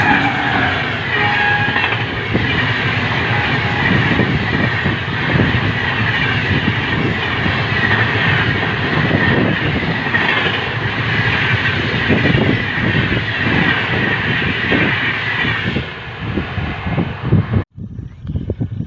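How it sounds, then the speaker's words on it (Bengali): A fast train, compared to the Vande Bharat, rushes past in a sustained loud roar of wheels and rail noise that stays steady before cutting off abruptly near the end. "ট্রেনের গতিটা খালি দেখুন একবার, যে এত গতি।"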